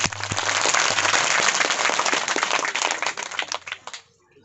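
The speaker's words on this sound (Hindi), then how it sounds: "ताली बजा के सुनाइए।" An audience at a women's day session gives lively applause after a dance, dense clapping that holds strong for several seconds, then thins out and fades to near silence at the end.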